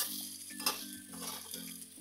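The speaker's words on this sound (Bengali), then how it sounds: "এখন আমি ভালো করে ভেজে নিই তারপর।" Ridge gourd and potatoes fry in a pan at home, giving a steady, soft sizzle with faint stirring scrapes and a brief clink partway through, no voices.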